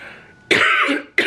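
A person getting over a cold coughs twice, close and loud, each a harsh, brief throaty burst following a quieter breathy sound.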